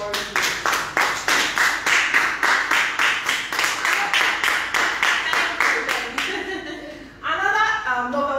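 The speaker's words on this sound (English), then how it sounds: "Please, a round of applause for you." A masterclass audience claps in a rhythmic, unison beat of about three claps per second, close and even, before the clapping breaks off and a voice begins to speak.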